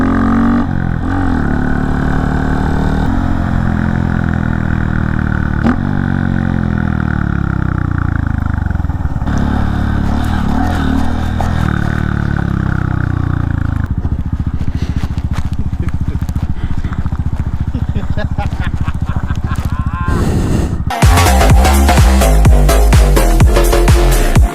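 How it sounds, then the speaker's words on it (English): A motorcycle ridden at speed, its engine droning loud and close with rising and falling pitch as the throttle changes, joined by a brief burst of heavier roar and wind rush near the end; a rider's voice may be heard over it. "Good God, this is a comfortable bike."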